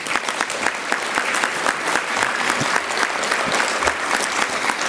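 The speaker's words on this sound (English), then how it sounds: "so if we give Trevor a round of applause." An audience at a university civil rights symposium gives a student a steady round of applause, dense clapping from many hands sustained for several seconds, fairly near and even.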